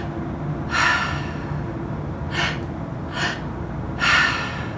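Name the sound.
active breathwork inhales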